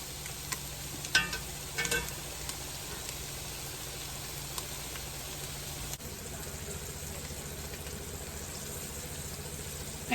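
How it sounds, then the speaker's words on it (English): Steady, soft sizzling of food frying in butter, with no oil, in a pan, a constant crackle with a few faint clinks, no talking. "they're truly not fried in oil, just fried in butter"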